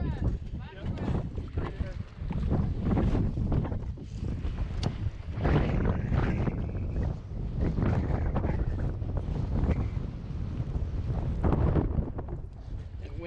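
Strong wind roars and buffets against the microphone on a fishing boat out on deep water, with gusts surging and easing, waves slapping, and people talking over the noise.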